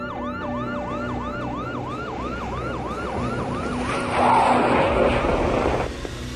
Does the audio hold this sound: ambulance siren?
yes